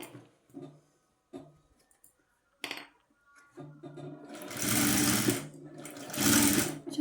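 A sewing machine stitching cloth with a narrow presser foot, starting with a few short clicks and taps, then running in two loud, steady whirring bursts close to the microphone.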